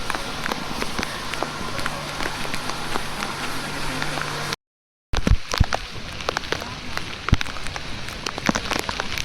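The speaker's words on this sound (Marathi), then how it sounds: "पाऊस रिमझिम आहे पण कंटिन्यू आहे." Light but continuous monsoon drizzle falls on a crowded trekking route on the Garbett Plateau, a steady close patter of raindrops broken by a brief dropout midway.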